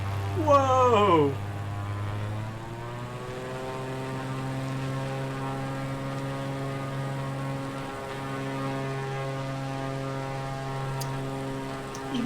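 Propeller airplane in Microsoft Flight Simulator on Xbox Series X flying at full speed, a steady droning engine hum with layered harmonic tones that holds on throughout, with a brief louder rising burst at the start.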